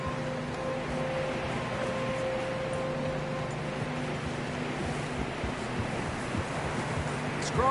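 Steady broadband rush of river water in the Red Dead Redemption 2 game world, continuous and fairly loud throughout, with faint tonal game ambience beneath and no talk.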